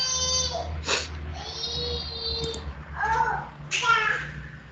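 A baby's high-pitched vocalizations and cooing come from the background in short, wavering bursts, fairly faint beside a nearby adult voice during a talk on manual therapy and trigger points.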